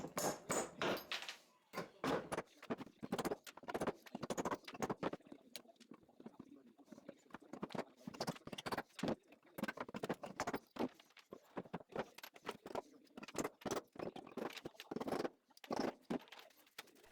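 Nails being pried and hammered out of pallet-wood 2x4 runners, a long run of sharp irregular knocks and metallic taps, close and fairly quiet, with short pauses between bursts.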